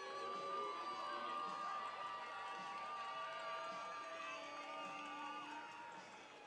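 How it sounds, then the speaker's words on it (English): Fans cheer at a Davis vs. St. Francis water polo match: a steady crowd roar with shouts and whoops that carries on evenly, then eases slightly at the end. "The fans are fired up."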